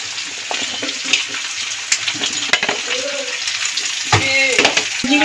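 Mixed vegetables such as stalks, eggplant, beans and ridge gourd drop into a frying pan with prawns, setting off a steady hiss and sizzle with scattered clatters and thumps as pieces land and are stirred.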